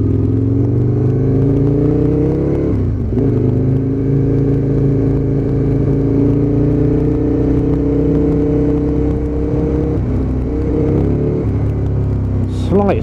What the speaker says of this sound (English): And that big V-twin grunt.